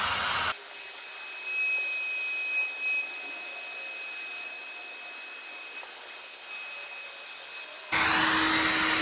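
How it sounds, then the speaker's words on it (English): A heat gun blows steadily on freshly applied sealant during assembly of a 3SGE Beams long block, a continuous loud airy roar lasting several seconds with brief quieter moments before and after. "Put that heat gun on it here."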